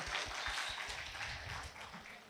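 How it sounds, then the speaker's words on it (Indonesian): Soft, distant applause rises from a gathering of students at a university farewell event ahead of graduation, a steady patter of many hands continuing evenly throughout. "Tepuk tangan buat teman-teman semuanya ya."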